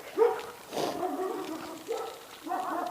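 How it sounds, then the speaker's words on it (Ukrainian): A Pekingese dog barks: four rough, yappy barks at uneven intervals, moderately loud and fairly close, over faint background noise. "тут теж зараз буде песик"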